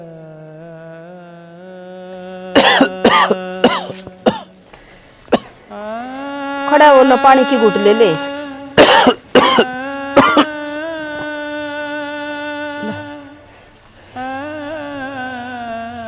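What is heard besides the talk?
person coughing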